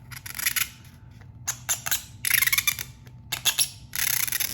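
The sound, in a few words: blade cutting straight down along a line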